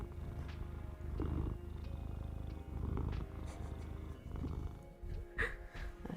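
A cat purrs close by in a low, steady rumble that swells and fades with each breath, with faint background noise and no speech.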